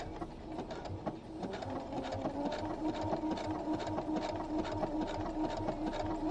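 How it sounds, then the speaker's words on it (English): A sewing machine stitches a cosplay bodysuit, running in a steady continuous whir with a rapid rhythmic needle patter throughout, fairly close and without any talking. "now I'm gonna use this backstitch button that just sews in place"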